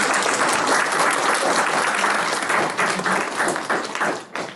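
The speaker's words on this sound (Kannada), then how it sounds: "ಚಪ್ಪಾಳೆ ಹೊಡೀರಿ." An audience claps in sustained applause at a school orientation day. The dense clapping fills the room and thins out toward the end.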